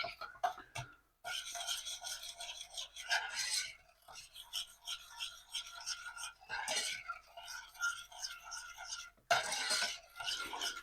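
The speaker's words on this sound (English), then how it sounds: "Give this mixture a little stir around, the cream" Cream and a vanilla pod stirred in a pan over medium-low heat, a steady rasping scrape of spoon against metal in repeated strokes, broken by short pauses, close and moderately loud.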